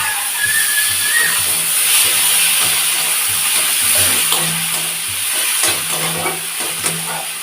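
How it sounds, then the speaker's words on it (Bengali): Chopped onions fry in oil left over from frying fish, as the base for a Bengali katla kalia curry. A loud, steady sizzle and hiss runs throughout, with soft stirring and scraping sounds close by. "আমি এটা মাছ ভাজা তেলেই করে নিচ্ছি। কুচানো পেঁয়াজগুলো দিয়ে দেবো।"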